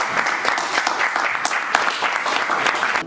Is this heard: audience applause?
yes